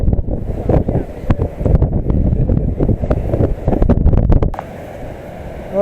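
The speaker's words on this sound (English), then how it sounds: "this place is so windy. I'm not sure how much you can hear me, but it's so windy." Strong coastal wind at Giant's Causeway buffets the microphone in heavy, gusting bursts of loud low rumble, easing toward the end, with a faint voice underneath.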